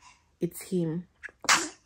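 A person sneezes sharply once amid a casual home conversation, a short explosive burst standing out briefly between spoken voices nearby.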